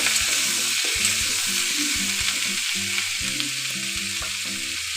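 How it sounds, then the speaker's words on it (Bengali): Mixed vegetables are stirred with salt in a pan. A loud, even frying hiss runs throughout, with occasional stirring ticks and a pattern of low, stepped tones underneath. "লবণটা দিয়ে আমি ভালোভাবে নাড়িয়ে চাড়িয়ে নেব"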